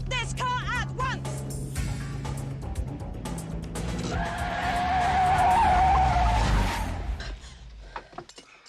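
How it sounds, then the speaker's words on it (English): A car skids hard to a stop, its tires squealing loudly and rising to a peak before cutting off, after a voice and light music at the start. "Stop this car at once!"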